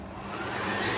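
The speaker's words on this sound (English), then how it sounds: "this is a blow dryer" A handheld blow dryer runs steadily in a hotel room, its even whooshing motor and airflow close and continuous for the whole moment with no one speaking.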